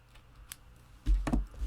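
Scissors trim baker's twine on a handmade paper card: a faint snip, then a louder, close double snip near the end, in a quiet room.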